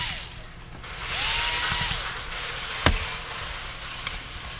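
A power driver undoes screws on a T4E HDS .68 caliber paintball shotgun, with a single whirring run of about a second followed by a sharp click and faint handling noises.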